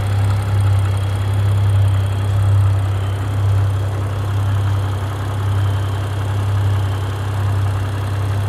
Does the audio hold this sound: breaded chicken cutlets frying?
no